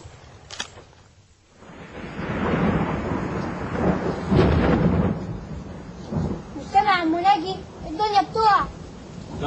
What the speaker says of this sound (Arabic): ده رعد يا حبيبي. المطر ده هنغرق